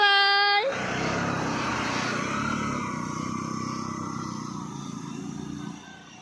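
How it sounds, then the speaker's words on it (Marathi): Auto rickshaws pull away one after another, their engines a steady drone that slowly fades over several seconds. A short voice is heard at the very start. "एक रिक्षा गेला दुसरा रिक्षा."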